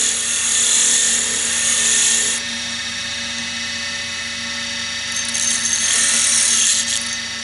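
A lathe tool cuts a spinning pen blank, giving a steady high-pitched whine and hiss over the hum of the motor, rising louder at the start and again near the end.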